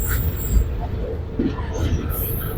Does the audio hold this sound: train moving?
yes